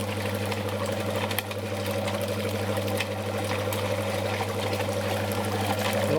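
Grape juice being made: water pouring strongly and steadily into a pot, with a constant mechanical hum underneath, no pauses throughout.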